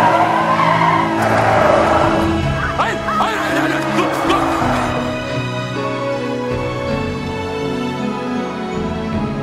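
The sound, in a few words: car skidding to a stop, nearly hitting a boy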